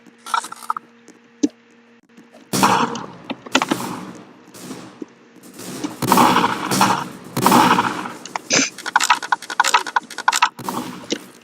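Gunfire in the Strucid shooting game, likely double shotgun blasts, comes as several sharp separate bangs, some in quick pairs, with bursts of building and impact noise between them.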